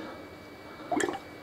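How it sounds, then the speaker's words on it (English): Home-brewed ale fermenting in a vessel lets out a brief burst of wet bubbling and gurgling near the end, rising above a faint steady background hum. "it's been on in the fermenting vessel for about a day now, and it's bubbling like a good one"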